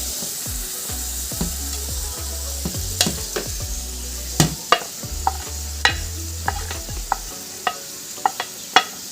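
Finely chopped mango ginger sautéed in a pan for pickle, crackling sizzle under sharp, repeated ladle taps and scrapes, loud and close, with no speech.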